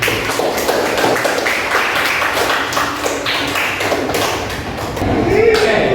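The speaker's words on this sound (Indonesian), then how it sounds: "tepuk tangan untuk kita semua" A classroom of students applauds together, a near, busy patter of many hands clapping and tapping that continues steadily for several seconds with voices mixed in.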